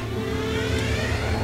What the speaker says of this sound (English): The engine's working.